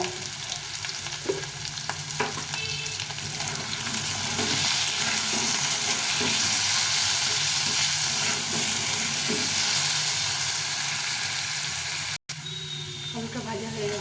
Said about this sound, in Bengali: আর হলুদ দিয়ে দিচ্ছি ভেজে নেব